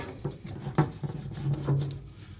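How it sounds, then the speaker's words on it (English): Drive belt being worked around the rear transmission pulley of a Cub Cadet mower, heard as close, muffled rubbing and knocking with a few low thumps and short squeaks of rubber on metal. "I'm going to try to get this belt around the rear transmission pulley"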